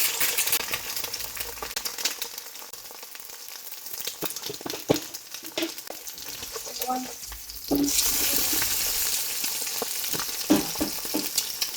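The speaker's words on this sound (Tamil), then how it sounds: "இப்படி எல்லா முட்டையையும் பொறிச்சு போட்டு குழம்புக்கு போட்ட நல்லா இருக்கும்" Steady sizzling of eggs frying in a hot pan, with occasional clinks and stirring, growing louder partway through.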